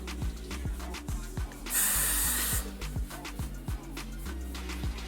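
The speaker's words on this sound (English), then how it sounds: "Spray it on down" A short hiss of hair spray from an aerosol can, lasting about a second, over a steady background of rhythmic beats and faint breathing.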